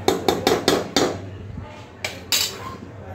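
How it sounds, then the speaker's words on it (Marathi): A spoon clanks and scrapes against a pan while okra masala is stirred, giving a rapid series of sharp metallic knocks, a brief pause, then two more close knocks. "मीठ टाकल्यानंतर परत छान असं मिक्स करणार आहे मी."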